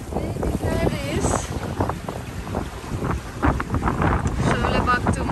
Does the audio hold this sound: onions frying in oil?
no